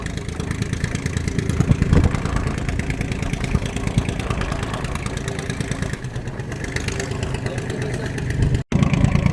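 A boat engine drones steadily during a rough sea crossing to Nainativu, a loud, continuous mid-pitched hum with wind and water noise, holding constant apart from one brief dropout near the end.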